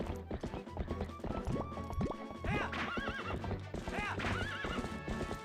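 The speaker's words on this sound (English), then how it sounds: "Nay, says the horse." Epona neighs in Zelda Twilight Princess, a loud rising whinny over clip-clopping hooves and game music, with a second whinny following; a voice talks alongside.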